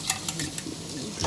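Sesame chicken fries in a pan as the pre-made sauce goes in, with a steady, close sizzle and the scrape of stirring over about a second.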